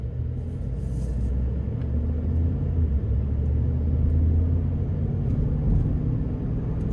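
A 2026 Ford F-150 Lobo with a naturally aspirated V8 drives along, heard from inside the cab as a steady, deep engine and road rumble throughout, with no talking.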